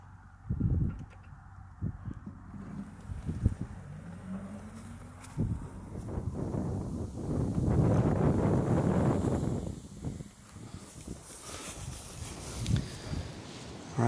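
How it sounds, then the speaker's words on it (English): A gusty southeast wind blows outdoors during an afternoon deer hunt, buffeting the microphone in rough surges that swell loudest midway and then ease, with faint birds and rustling underneath. "The wind has picked up, it's a little gusty."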